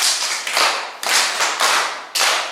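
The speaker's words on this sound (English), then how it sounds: "Can we clap for ourselves?" A classroom of students clapping for themselves in four or five loud, sharp bursts of rhythmic group claps, each burst fading briefly before the next.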